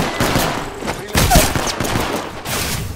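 Rapid, dense gunfire bursts in the video game Apex Legends, loud and close with overlapping shots and brief gaps.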